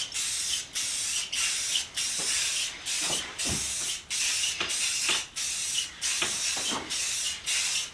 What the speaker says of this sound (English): then I'll give it another spray of the clear coat, and then we'll go and wax it.